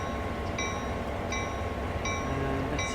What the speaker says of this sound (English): the train is starting to roll backwards